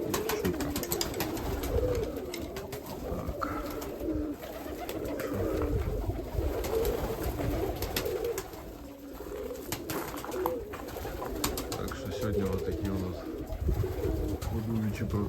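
Pigeons coo softly and repeatedly in the background, mixed with rustling, faint chirps and some indistinct talking.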